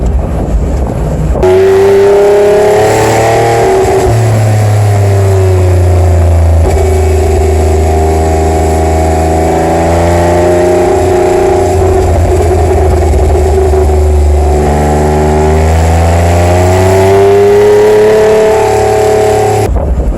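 A 2012 Porsche 911 Carrera 4 GTS cabriolet with all-wheel drive accelerates hard out of corners, its engine climbing loudly in pitch through several rising runs separated by gear shifts, close and continuous.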